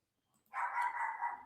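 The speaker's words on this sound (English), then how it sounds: "And that's my dog barking," A pet dog barks once indoors in a home, a single short, moderately loud bark or yelp over otherwise quiet surroundings.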